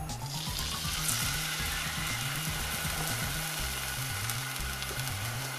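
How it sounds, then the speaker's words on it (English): Steady broadband sizzling hiss with low rumbling underneath, continuous throughout, as yakisoba sauce fries in a hot pan at close range. "We'll have a nice sizzle sound when this hits the pan"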